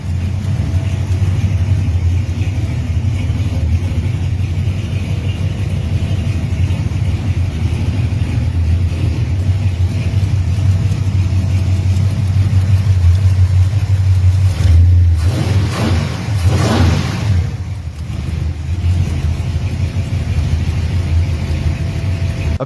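A 1985 Chevrolet Suburban Silverado with a new 454 big block V8 and a 400 transmission rumbles loudly up close, a deep steady idle with a brief sharp rev swelling and falling back partway through.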